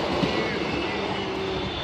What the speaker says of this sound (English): This train has 2 coaches.